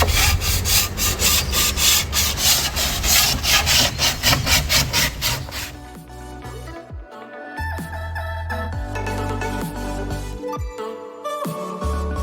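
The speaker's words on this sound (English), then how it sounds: "I will be using a 120 grit sandpaper. Let's begin. I'll be sanding it lightly." Light hand sanding of wood with 120 grit sandpaper, rhythmic back-and-forth rasping strokes close up for about six seconds, then quieter scattered rubbing and handling noises.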